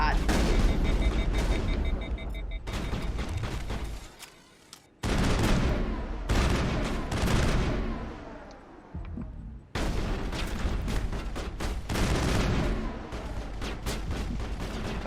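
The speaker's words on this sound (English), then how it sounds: "I don't know why that shotgun didn't hit, like, at all." Shotgun blasts and combat noise in the video game Mass Effect, loud booming bursts in quick succession with a short lull in between and dense battle sound throughout.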